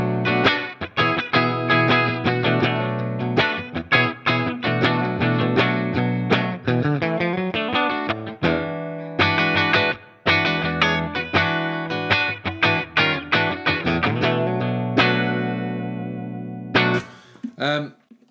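Electric guitar, a Gretsch on the bridge pickup, with a bright, trebly tone plays a quick run of picked notes and chords, loud and continuous, with a brief pause near the end.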